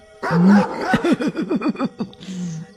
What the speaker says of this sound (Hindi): अब तू भौंक रहा है कुत्ते?